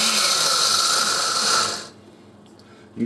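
A blender pulses whole wheat berries into powder with a loud, harsh grinding roar that cuts off abruptly after about two seconds, followed by near silence and a short bump at the end.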